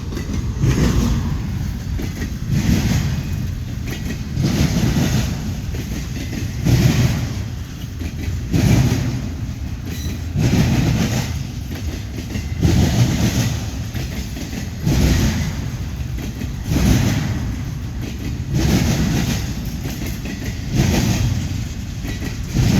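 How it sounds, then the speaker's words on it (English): A westbound CSX intermodal freight train, running from Selkirk, New York to Chicago, rolls past at Deshler, Ohio, with a steady rumble and a regular clickety-clack of wheels over rail joints repeating every couple of seconds, loud and close. "Intermodal freight train."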